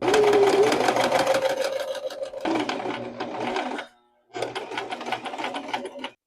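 A sewing machine runs steadily while stitching the inner collar of a dress with a narrow stitch, a loud close whirring buzz that pauses twice, stopping fully for about half a second before restarting.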